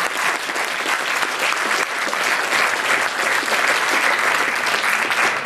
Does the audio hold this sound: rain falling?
no